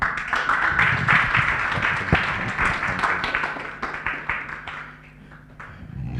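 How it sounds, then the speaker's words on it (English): An audience applauds for Mom at a book launch, a sustained wash of hand claps filling the room at steady loudness and tapering slightly near the end. "A clap for Mom"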